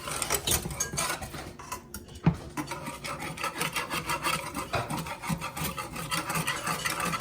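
A whisk scrapes the bottom of a pan to lift browned, juicy bits while making a sauce, producing a busy, rhythmic rasping and scratching close up, with one sharper knock partway through.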